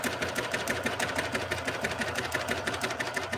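A sewing machine running a triple cover stitch at a steady, fast, even rhythm, close and continuous with a whirring motor and rapid needle clatter throughout.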